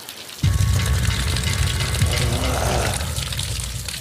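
A person wades into cold water, with continuous splashing and churning that starts abruptly and keeps going for several seconds, loud and close, with no talking.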